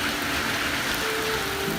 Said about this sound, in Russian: он поливает как из ведра